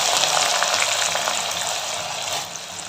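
Onions frying in oil for a fish gravy hiss with a loud, dense sizzle that stays steady and eases slightly toward the end.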